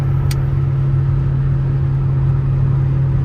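1987 Toyota MR2 engine cruising in fifth gear at around 4,000 RPM, a steady droning hum under road rumble from inside the cabin, with one faint click near the start.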